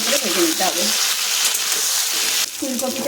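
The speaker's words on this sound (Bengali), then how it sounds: "সর্ষের তেল গরম করে তার মধ্যে প্রথমে ছেড়ে দিচ্ছি ফুলকপি" Cauliflower with turmeric and salt frying in hot mustard oil, a steady close sizzle and hiss, with a voice talking over it at the start and end.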